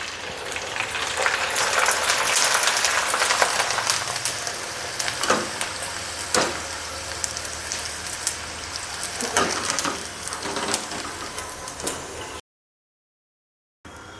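Rice kurkure snacks made from raw rice deep-fry in hot oil with a loud, continuous close-up sizzle and bubbling, occasional stirring clatter, then an abrupt cut to silence near the end.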